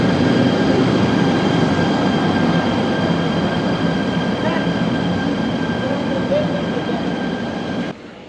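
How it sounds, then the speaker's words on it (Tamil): Train running through jungle in Malaysia, a loud continuous rumble of wheels on track with steady metallic whine tones and faint squeals, close and unbroken until it drops off abruptly at the end. "பார்த்தீங்கன்னா இந்த ட்ரெயின் வந்து காட்டுக்குள்ளாலாம் போய் கொண்டிருக்குது"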